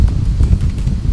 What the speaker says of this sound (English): It's really easy for the wind to get in.